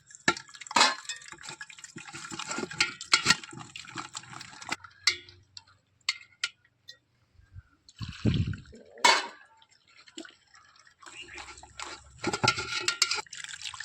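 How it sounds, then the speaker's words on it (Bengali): Water poured over grated raw potato in a strainer for homemade potato cornflour, intermittent splashing and trickling with drips and handling clatter, close and uneven. "এরপর এখানে এইভাবে জল দিয়ে কিন্তু খুব ভালোভাবে আলুটাকে এর মধ্যে ছেঁকে নিতে হবে।"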